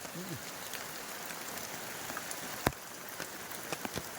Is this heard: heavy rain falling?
yes